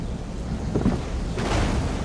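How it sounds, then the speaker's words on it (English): A lightning strike in Elder Scrolls Online cracks into a loud rumble of thunder, a burst of low booming noise with a rain-like wash continuing after it, no voices. "Have some lightning!"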